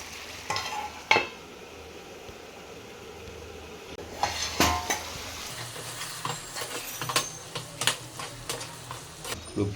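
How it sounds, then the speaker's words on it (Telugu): Chicken gizzards sizzle in a pan with ginger and garlic, a steady soft frying hiss broken by occasional sharper crackles and stirring knocks, moderately quiet and close with no talking. "ఇప్పుడు ఒక 2 నిమిషాలు అల్లం వెల్లిగడ్డలో ఉడికించుకుందాం."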